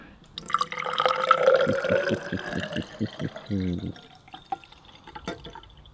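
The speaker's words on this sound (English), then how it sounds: "and pour a nice mug here." Calypso Ocean Blue Lemonade poured into a glass mug, a close bubbling, gurgling stream with rising pitch as the mug fills, then a few final drips; a voice talks lightly around it.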